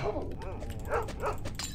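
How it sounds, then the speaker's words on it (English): Dogs in the Iron Storm video game bark and yip in quick, close bursts over a steady game background, with a voice partly overlapping. "There are more dogs here. Hello, dogs."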